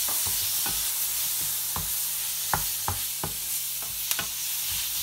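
Tomatoes go into an onion and spice mix that is frying for a Marathi ridge gourd bhaji with toor dal, giving a constant close sizzle punctuated by regular spatula scrapes and taps on the pan. No one speaks.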